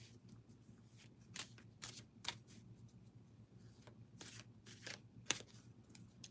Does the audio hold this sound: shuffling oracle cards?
yes